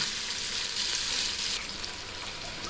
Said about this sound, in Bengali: পেঁয়াজ কুচিগুলোকে ভালো করে নেড়ে এগুলোর সাথে ভেজে নেব।